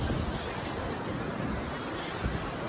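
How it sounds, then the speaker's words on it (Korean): Large ocean waves breaking along a crowded Sri Lankan shore make a steady, loud, broadband roar of surf, continuous throughout with wind buffeting the microphone. "파도가 엄청 커요."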